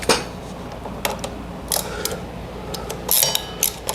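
Tools loosening the bolts beneath the shocks of a Ducati V2 motorcycle give off clicking ratchet and metallic clinks, close and intermittent, over a steady background hum.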